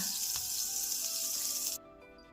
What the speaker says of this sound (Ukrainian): Смажимо сьогодні ми котлети із хитростями. В олію додаємо ще й вершкового масла.